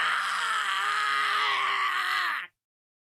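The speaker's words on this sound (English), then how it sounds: "Suddenly screams resound around the shop. All the consoles start to shake and I hear dying wails coming from some of them." Layered screams and drawn-out dying wails from the visual novel Baldr Sky, set in a shop full of shaking consoles, ring loud and unbroken for about two and a half seconds before cutting off abruptly.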